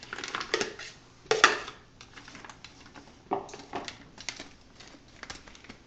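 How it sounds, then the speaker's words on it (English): Roasted vegetables being tipped and spread onto a cookie sheet give short clustered clatters and patters, a louder scrape or tumble near the start and sparse lighter taps after, close and without talk. "When you're ready, take it and put it on a cookie sheet."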